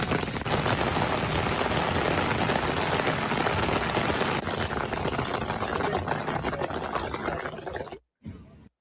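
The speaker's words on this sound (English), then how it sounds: "It's raining. It's pouring." Heavy rain pouring down, a dense, loud, continuous hiss of drops on surfaces that holds steady for about eight seconds before cutting off abruptly.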